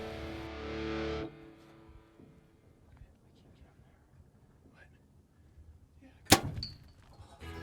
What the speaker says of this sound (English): As my arrow sails right over his back